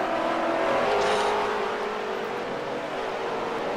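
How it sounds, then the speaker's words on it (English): Race car engines bog down during a dirt race in Second Life, giving a steady, fairly loud engine drone that sags and strains, with a brief higher rev near the start. "see that the cars bogging down suddenly is not helping us"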